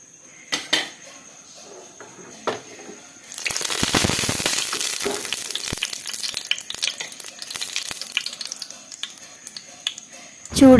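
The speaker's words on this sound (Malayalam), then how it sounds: "ചൂടായ എണ്ണയിലേക്ക് തേങ്ങാക്കൊത്ത് ചേർത്ത് കൊടുക്കാം." Coconut pieces dropped into hot coconut oil in a pan, a sudden loud sizzle that settles into steady crackling frying, with a few utensil clinks before and a clatter at the end.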